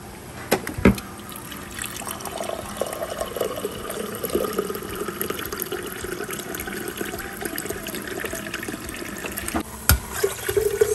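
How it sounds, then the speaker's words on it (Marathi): Water heating in an electric kettle for instant noodles gives a steady hiss and low rumble at moderate level, with a couple of sharp clicks near the start and end. "मी मॅगीसाठी पाणी गरम करून घेते अमोलीसाठी."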